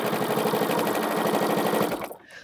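A sewing machine stitches across quilt seams with a steady, rapid mechanical chatter close by, running continuously for about two seconds before stopping abruptly.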